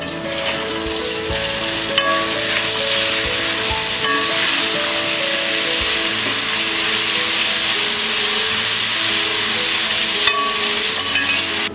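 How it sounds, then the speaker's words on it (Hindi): Grated raw mango frying on a low flame in a pan, a steady close sizzle running throughout with occasional stirring scrapes and clinks. "हमने इसे 5 मिनट तक लो फ्लेम में फ्राई कर लिया है"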